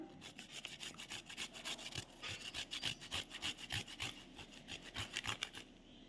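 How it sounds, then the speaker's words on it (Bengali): Fresh ginger is grated onto guava, producing a close, rhythmic series of rasping strokes that repeat steadily, with no voices. "এখন আদাটা, এই যে আদাটা এর মধ্যে একটু, পেয়ারার মধ্যে একটু ঘষে দিব"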